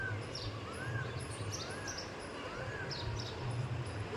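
Morning birds such as sparrows, parrots, pigeons and peacocks call faintly from a distance around a rain-soaked village terrace, with a few short, repeated chirps over a steady low background hiss.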